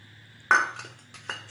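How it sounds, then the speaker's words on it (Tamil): Butter being added to maida flour for badusha sweets: a sharp metallic clink of a utensil against a bowl, followed by softer scraping and a second lighter clink, close and alone. "ஸோ நான் இப்போ இதை வந்து இந்த மைதா மாவு கூட இந்த பட்டரை வந்து சேர்க்குறேன்."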